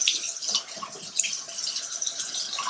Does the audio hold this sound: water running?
yes